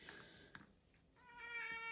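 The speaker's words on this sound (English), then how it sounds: "you'll probably hear my cat meowing in the background because it's always hungry" A hungry domestic cat meows in the background of a room, several close, tonal, drawn-out cries with one louder, sustained meow near the end, over faint room noise.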